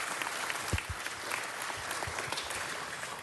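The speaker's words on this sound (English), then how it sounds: "give them a round of applause" A City Hall crowd gives a round of applause for wounded warriors, steady moderate clapping throughout, a little distant, with no talk over it.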